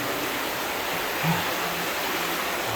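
Water flows steadily in a continuous, even rushing hiss, like runoff pouring nearby with no other sounds standing out.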